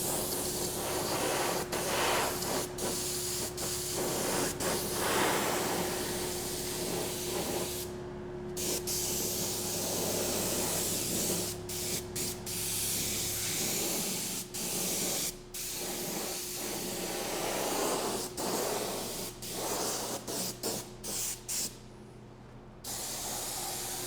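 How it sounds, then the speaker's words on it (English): Airbrush spraying candy paint onto doors at raised air pressure through a 0.5 needle, a loud steady hiss broken by short pauses and trigger clicks, close and continuous. "Okay, enough of the airbrush for a second."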